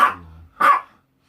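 A dog gives two sharp barks in quick succession, close and loud, at home during an evening burger-and-cup-ramen eating session, the second bark following a brief pause.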